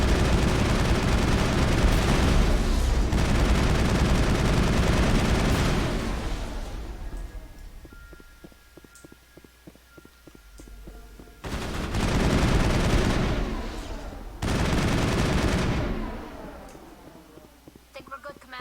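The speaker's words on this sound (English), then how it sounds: "things are exploding." Bursts of gunfire and explosions from the video game Mass Effect 1, loud combat noise in two long stretches with a quieter gap of scattered shots and rumble between them.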